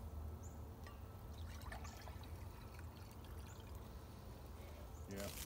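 Water pours and trickles out of a pot into a smaller vessel while cowboy coffee is made over a hobo stove outdoors, a steady near splashing stream that ends with a brief clatter.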